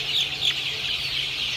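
Three-week-old chickens cluck close by at a farm during beak trimming, a few short high calls over a low steady hum.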